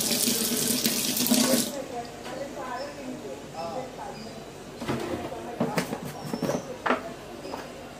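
Tap water runs at a sink during a morning face wash. A loud, steady rushing stream fills the first couple of seconds, then turns softer with light splashing and scattered knocks under a quiet voice.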